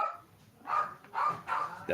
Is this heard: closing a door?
no